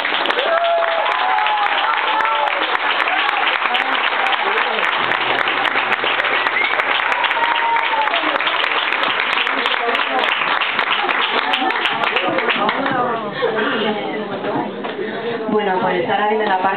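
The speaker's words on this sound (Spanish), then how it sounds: "un aplauso para John, por favor." Sustained audience applause after a live pop singer's concert performance, a dense, loud wash of many hands clapping that continues steadily with crowd noise for the whole stretch.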